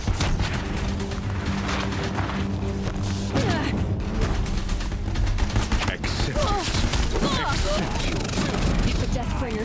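Dense, sustained gunfire from alien Deathbringer weapons in a movie battle scene on a bridge, loud and continuous with booming impacts and crashes, voices shouting beneath the barrage.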